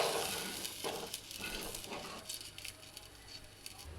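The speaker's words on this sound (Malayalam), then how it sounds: "ഉപ്പിട്ടിട്ട് നമുക്കതൊന്ന് ഇളക്കാം" Soft sizzling with faint scraping as salt is stirred into fish curry in a pan, steady and close, no voices.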